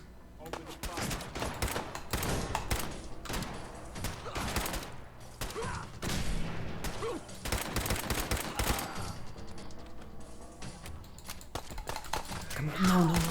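Rapid gunfire in Fallout 4, dense bursts of shots and automatic fire cracking steadily for over ten seconds, loud and continuous, with a player's voice talking at times underneath.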